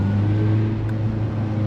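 A Honda Civic EJ1 with a K20 engine accelerates inside a tunnel, a loud, close, droning engine note with a low rumble that fills the short moment.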